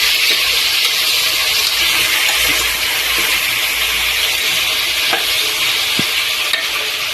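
Vegetables frying with ginger garlic paste in a pan for vegetable biryani, producing a loud, steady, close-up sizzle with occasional small pops throughout and no speech.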